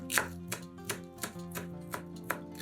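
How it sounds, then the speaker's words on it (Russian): A knife chops green onion on a board in steady, regular taps, about eight strikes, close up, with soft background music underneath. "Зеленый лук мелко нарезаем ножом"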